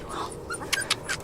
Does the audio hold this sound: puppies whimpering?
yes